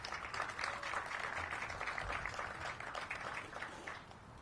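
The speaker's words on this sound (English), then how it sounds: "Give him a round of applause." Crowd applause at an outdoor groundbreaking ceremony for Reunion Square in Anacostia, Ward 8, Washington, D.C.: steady, dense clapping that holds evenly for several seconds, then eases slightly at the end.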